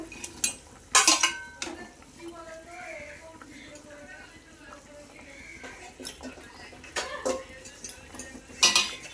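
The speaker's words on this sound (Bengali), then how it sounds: "ঝোলটা ফুটে গেছে দেখো এবার আমি মাছের ডিমগুলোকে দিয়ে দেবো" Fish roe going into a boiling potato curry, with scattered clinks and scrapes of utensils against a pot, some louder knocks near the start and end, over a low simmering background.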